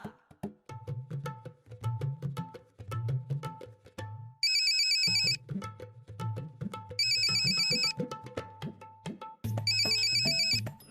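A mobile phone ringtone rings in three loud electronic bursts over rhythmic background music in a Marathi TV serial scene, with no talking.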